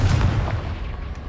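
The Confringo blasting spell from Hogwarts Legacy goes off as one loud, close boom with a rumbling low tail that fades over about a second.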